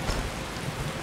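Heavy rain hisses steadily in a Skyrim Special Edition game scene, with a low rumble of thunder underneath, a dense wash of sound with no speech.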